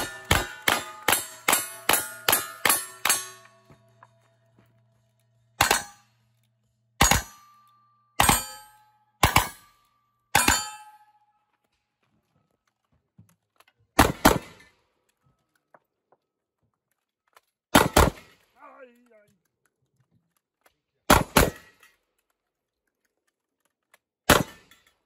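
Gunfire at a cowboy action shooting match in a two-gun stage, opening with a rapid string of about eight sharp shots with ringing steel targets, then single loud reports spaced several seconds apart, echoing outdoors without speech.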